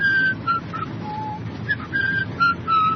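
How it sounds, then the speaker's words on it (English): Someone whistles a short melody in clear, separate notes over a steady low rumble of background noise. "I'll whistle this tune."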